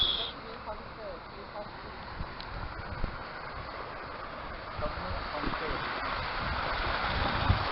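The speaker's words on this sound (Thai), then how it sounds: "น้ำตก" Waterfall in a town setting in Norway, a steady broad rush of falling water throughout, fairly close and continuous, with wind and faint voices mixed in.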